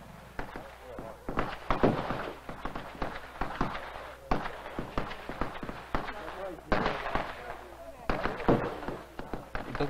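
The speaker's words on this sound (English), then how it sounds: "There's quite a lot of fireworks" Fireworks and firecrackers at a Qingming tomb-sweeping family gathering: repeated sharp cracks and bangs in irregular bursts throughout, with voices audible underneath.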